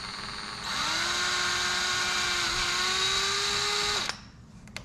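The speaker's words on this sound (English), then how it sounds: "We're just going to go ahead and we're going to drill these right like so." A power drill bores screw holes in a C7 Corvette spoiler, one steady whine lasting about three seconds that winds down at the end over faint background noise.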